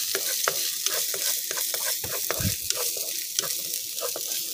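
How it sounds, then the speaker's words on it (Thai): Chopped shallots stir-fried with garlic and pepper in a pan, giving a constant close sizzle under quick clicking stir strokes, with no talk. "ผัดให้หอมแดงสุกดีนะคะ"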